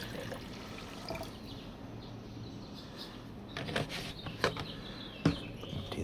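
Water poured out of a small container while seed-starting in a balcony garden, a soft steady trickle with a few brief splashy bursts near the end.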